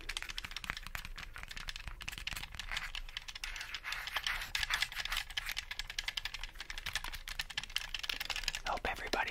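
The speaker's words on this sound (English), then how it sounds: "let's go ahead and start tapping on some triggers" ASMR tapping on assorted trigger objects produces dense, rapid clicks and taps close to the microphone, running continuously at a soft level with a faint voice underneath.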